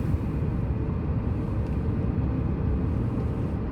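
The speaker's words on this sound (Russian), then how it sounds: "Вот, я торможу двигателем сейчас на третьей передаче" A 2021 Lada Granta FL engine braking in third gear at about 50 km/h, heard from inside as a steady, loud, low droning rumble with no break.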